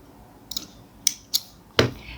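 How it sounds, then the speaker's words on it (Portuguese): Scissors snipping crochet thread: a few short, crisp metallic clicks spaced unevenly across two seconds, close and fairly loud in a quiet room, with no talking. "puxo uma corrente e vou cortar a linha"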